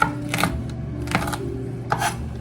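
A knife chops toasted almonds on a board, giving three crisp clustered bursts of cutting about a half second apart, moderately close, with no one speaking.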